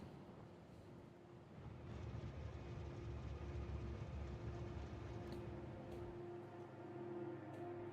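Trains rolling through a Factorio factory on the volcanic planet Vulcanus, a steady low rumble with a sustained mechanical hum and a faint tonal whine, growing louder after the first two seconds and holding.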